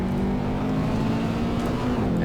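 A race car engine runs hard at the Vallelunga circuit in Assetto Corsa, a loud steady drone with pitch shifts as the car downshifts, close and continuous without talk.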